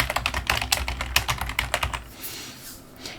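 Someone types on a computer keyboard in the Hancom Office word processor. Rapid, close keystrokes patter for about two seconds, then the room goes quiet.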